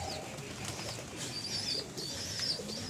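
Pigeons coo softly in the open morning air, with faint bird calls and a possible flutter of wings over quiet outdoor ambience.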